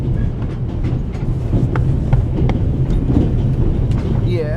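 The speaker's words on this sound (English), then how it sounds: "The noise on this train is driving me crazy." Orient Express train from The Raven Remastered rattling along steadily with rhythmic clickety-clack and metallic squeals, loud and continuous, with a voice faintly present underneath.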